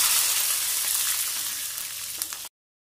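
Garlic hits hot oil with urad dal and mustard seeds for an onion-coconut chutney, giving a steady, close sizzle that fades slightly before cutting off abruptly.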